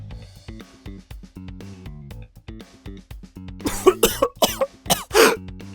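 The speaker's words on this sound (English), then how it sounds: "He didn't like to drink that much, so he started coughing." Rhythmic background music plays, then a burst of harsh coughing and throat clearing breaks in, several coughs in quick succession, loud and close.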